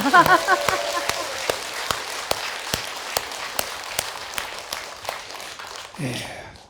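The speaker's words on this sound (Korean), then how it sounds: "박수 한번 더 보내주세요." Applause at a Buddhist family precepts ceremony in a temple, starting as a burst of irregular claps that thin into sparse, spaced claps, with a voice briefly heard at the start and again at the end.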